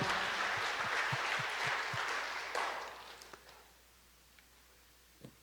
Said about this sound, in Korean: 우리 하나님께 박수로 영광을 돌립니다.